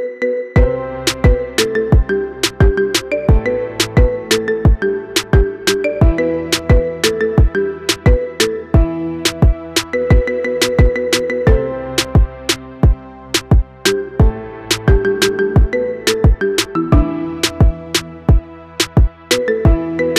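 A bright marimba remix of a song plays alone, quick plucked wooden notes repeating in a looping, upbeat rhythm.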